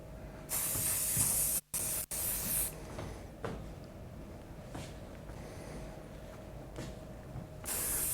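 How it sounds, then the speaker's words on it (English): Hairspray hisses onto hair during salon colour and styling work, with a couple of short bursts at the start, quieter handling and faint sprays in the middle, and a final close burst. "just checking it through with hairspray"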